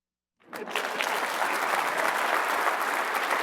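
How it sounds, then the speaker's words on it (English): An audience breaks into applause after a short silence, the many-handed clapping swelling quickly and then holding loud and steady to the end. "Now, right there, you could clap."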